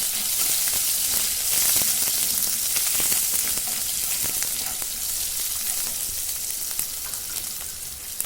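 Garlic and asafoetida sautéing in a pan, a loud continuous hiss and crackle of hot oil with scattered pops and stirring scrapes, close by and unbroken, no voices.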